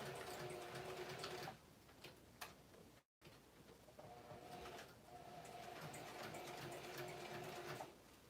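Sewing machine stitching a scrap fabric embellishment in two steady runs of fast whirring stitches, pausing briefly in between, with faint ticks and bird coos in the background.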